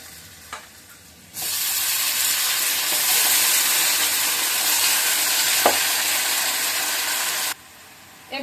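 Grated ginger hits a pan of frying potatoes and bursts into a loud, steady sizzle. The hiss holds for about six seconds, then cuts off abruptly, with faint kitchen clatter before and after.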